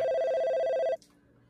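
A telephone rings loud and close with a steady electronic tone for about a second, then cuts off abruptly as the incoming call is answered, leaving near silence.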